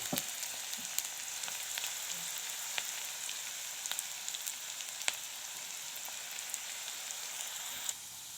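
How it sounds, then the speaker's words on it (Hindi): Onions frying in hot oil in a pan with fenugreek seeds and bay leaf, making an egg curry: a steady soft sizzle with scattered small pops and crackles, fairly quiet, with no talking. "ये देखिए, मेथी, तेजपत्ता और प्याज में डाल दिया इसी में। अब प्याज को मैं भूजूंगी।"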